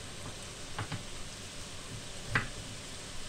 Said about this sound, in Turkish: patatesleri de son an böyle içine atıyorum, kızarıyor